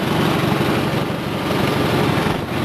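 A 140 engine idling steadily up close, a loud continuous low chugging drone with no pauses or voices.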